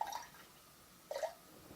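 Water poured in two short splashing bursts into a container while dividing a quarter cup between containers in a vegan home kitchen, quiet and close with a pause between pours.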